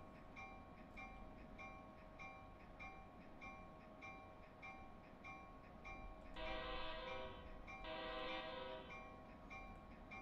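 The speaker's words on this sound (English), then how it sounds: "We have to keep blowing the horn" A train horn sounds in a train simulator game on a Washington–Baltimore route, with steady engine and rail rumble underneath and a loud sustained chord-like blast rising in two bursts near the end.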